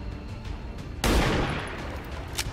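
A sudden close burst of gunfire from a soldier firing at an enemy in XCOM 2, loud and sharp with a short rattling tail, followed by a faint shot near the end, no speech.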